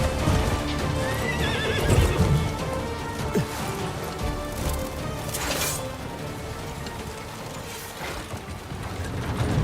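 In the Crimson Desert video game, a horse whinnies loudly while hooves clip-clop and gallop in a busy rhythm, with scattered clatters and bright effects layered over the movement.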